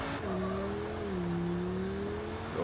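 A truck engine in the video game H1Z1 revs steadily with a droning, slightly wavering pitch that holds for a few seconds, loud and close over a constant background roar.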